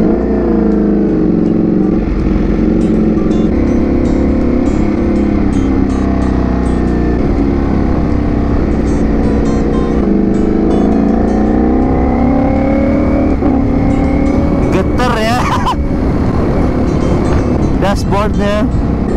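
Ducati V4S motorcycle with a V4 engine revving loudly and close by, its pitch climbing and falling through several throttle blips, while a voice talks over the engine.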